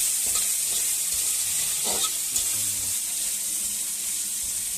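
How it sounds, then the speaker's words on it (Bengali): Mixed vegetables for chow mein fry in a pan with steady sizzling, and a few stirring scrapes and clinks sound up close. "নানারকম ভেজে নেবে সবজিগুলোকে"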